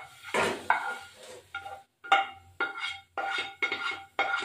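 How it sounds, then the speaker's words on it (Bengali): Cooked prawns for a prawn do pyaza are scooped from a pan into a bowl. A run of sharp metallic clinks and scrapes of a spoon against cookware comes in short, separate bursts, close and clear. "এই যে চিংড়ি মাছটা এবার বাটিতে নামিয়ে দেবো।"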